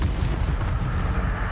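The Incendio fire spell cast in the video game Hogwarts Legacy: a short, steady roaring blast of flame, loud and dense, lasting about a second and a half with no voice over it.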